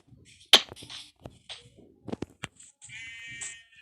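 A few short synthetic sheep bleats pop up among soft game sound effects in a sandbox building video game, with a longer wavering bleat near the end.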